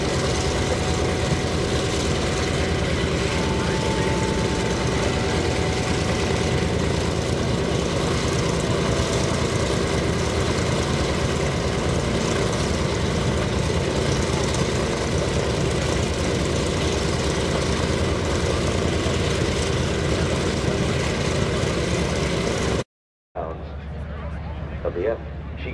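An FG-1D Corsair propeller fighter flies by at an airshow in Rhode Island, its piston engine giving a loud, sustained droning roar for more than twenty seconds before it cuts off abruptly, with a voice speaking over it.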